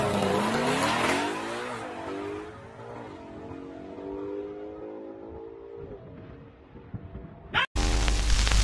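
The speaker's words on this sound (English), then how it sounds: "Watch this car take off." A car taking off with squealing tires, a loud screech and rising engine whine that fade out, followed by a brief drop and a sudden loud burst at the end.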